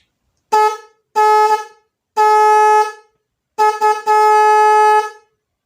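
A harmonic snail-type car horn honks in four bursts, the first two short and the last ones longer with a stutter, loud and close with nothing else audible.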